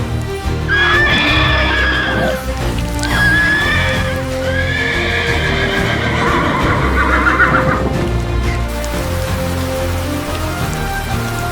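A cartoon horse neighs and whinnies loudly in repeated bursts, with a steady rain-like patter and hoof clip-clop beneath it, with no talking.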